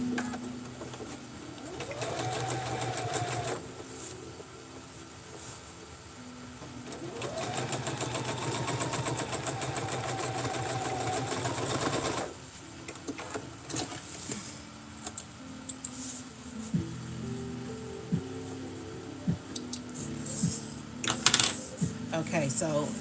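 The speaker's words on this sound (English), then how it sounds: "So we're sewing from the dot." Sewing machine stitching pieces of a McCall's 8193 cosplay pattern: two sustained runs of rapid mechanical whirring, a few seconds each, then clicks and handling noises, with a voice talking at intervals throughout.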